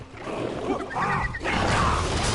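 Caragor beast from the game Middle-earth: Shadow of Mordor, a low, rough growl swelling into a throaty snarl, close and fairly loud over a bed of ambient noise.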